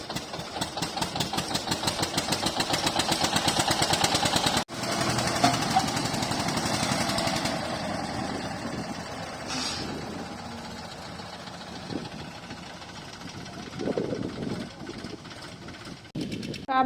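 Tractor engine running on a farm in India, a loud rapid knocking diesel chug that cuts out abruptly, then quieter rumbling with scattered thuds and faint voices.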